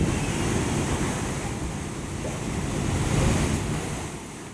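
Large sea waves surge and crash along the Mumbai coast during a high-tide warning, a continuous loud roar of surf mixed with wind buffeting the microphone, swelling slightly near the end.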